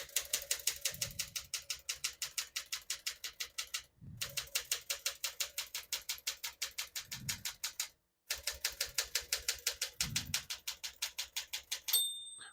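Rapid, rhythmic clacking of 1964 Smith-Corona Sterling portable manual typewriter keys in three bursts, each line ending with a carriage thump, and a small margin bell ding near the end.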